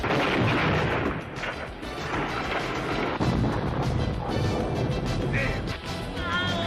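Gunfire from the action film Samurai Cop: a loud, dense, continuous barrage of shots and blasts with no pauses, harsh and close, over a rumbling background.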